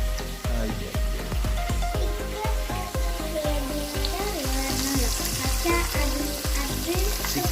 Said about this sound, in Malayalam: ചിക്കൻ ഫ്രൈ ആകാവുന്നതിനുള്ള വെയിറ്റിങ്ങിലാണ് ഞങ്ങൾ